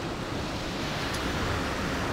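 Sea waves wash steadily along the coast of northern Peru, a loud, broad, continuous surf roar blended with wind, with no voices.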